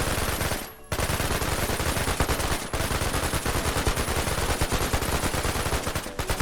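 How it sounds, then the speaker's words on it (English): A machine gun fires in the video game Project TX, a dense, continuous stream of rapid shots close by, broken by two brief gaps where the firing stops for a moment. "They'll be even more poppable when I've got a machine gun of sorts."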